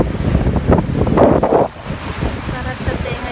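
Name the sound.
sea wind and waves at the shore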